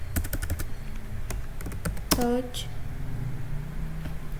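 Typing on a computer keyboard in a text editor: a quick run of clicking keystrokes followed by a sharper key hit, with someone talking over it.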